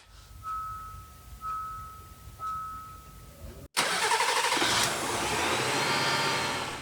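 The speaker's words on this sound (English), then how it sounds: "Alright, so we're going to start the car up." A car starter motor cranks on a lead-acid battery, with three short chimes first, then a sudden loud catch as the engine fires and settles into a steady, close idle.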